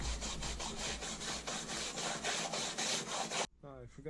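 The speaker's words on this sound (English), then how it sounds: "Give it a brush." A brush scrubs contact cleaner over a P10 LED screen module in quick, repeated rasping strokes up close, then stops abruptly, followed by a brief faint sound.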